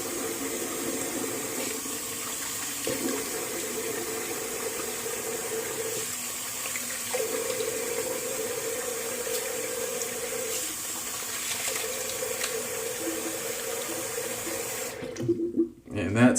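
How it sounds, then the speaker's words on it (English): Tap water runs steadily from a faucet into a sink for most of the stretch while a face is rinsed with cold water, with faint talk in the background; it cuts off near the end. "So, go ahead and rinse off with cold water."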